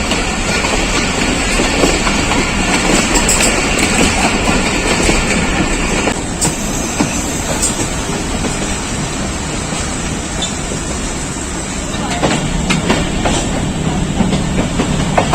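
Rehman Baba Express passenger train running on rails toward Peshawar City station, a loud, steady close rumble of wheels and carriages with faint rhythmic clatter throughout, no voices.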